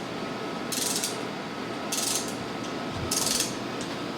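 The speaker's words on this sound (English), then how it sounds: "Putting rocker arms in, torquing them to 22 foot-pounds." Three short bursts of rapid ratchet clicking come from a wrench torquing the rocker arms on an LQ9 LS V8 engine being assembled, evenly spaced over a quiet shop background.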